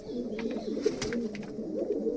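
Racing pigeons coo steadily at close range while being watered in their loft, with low, throaty, rolling calls overlapping one another and no talking.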